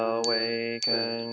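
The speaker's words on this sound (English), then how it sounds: "I send my heart along with the sound of the bell." A Buddhist temple bell rings twice during a Sunday service, each strike a bright, sustained metallic tone with rich overtones, the second struck about half a second after the first while the first still hums.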